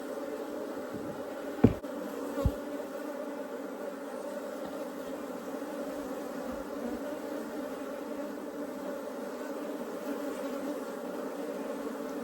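Agitated honeybees drone in a steady, dense buzz throughout a hive inspection after comb was broken, close by, with a couple of faint knocks early on.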